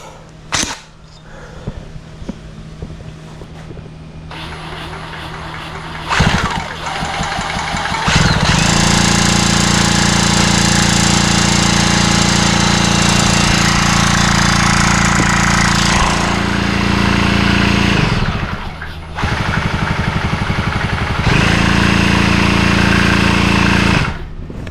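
A motorized bicycle engine with a bad crank starts in sputters, then runs loud and steady with a rough, rattling drone, briefly dipping and revving again near the end, with no talk.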